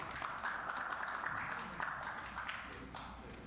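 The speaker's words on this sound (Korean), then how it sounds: "다시 한번 큰 박수 부탁드립니다" A live audience applauds at a regional commercial-district meeting held at Hannam University, with steady, moderately distant clapping filling the hall.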